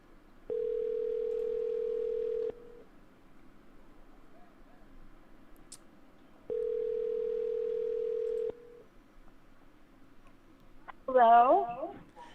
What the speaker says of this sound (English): finally getting a dial tone.